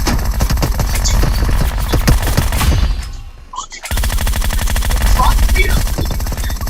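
Video game shootout gunfire, dense rapid automatic bursts rattling loudly, a brief lull, then sustained firing resumes, with talking voices underneath.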